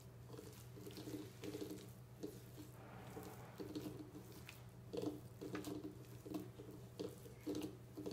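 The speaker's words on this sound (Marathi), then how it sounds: "पाणी थोडं थोडं घालून घ्यायचंय।" Tap water runs in a steady low stream into a batter bowl while bhaji batter for amti is being mixed, with soft splashes and stirring squishes over a constant hum.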